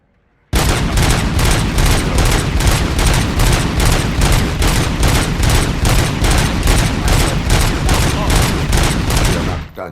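Sustained automatic gunfire from the player's weapon in the video game RoboCop: Rogue City, a loud, dense stream of rapid shots that starts abruptly and runs without pause to the end.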